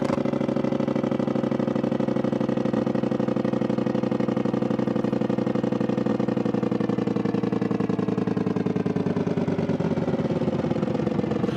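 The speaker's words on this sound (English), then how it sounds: "That is the sound of exhaust running out of an incredibly long, unmuffled pipe." Loud, continuous exhaust from a giant 10-litre single-cylinder truck engine in a video game drones through a long unmuffled pipe, a steady low buzzing hum with a slight pitch drop near the end.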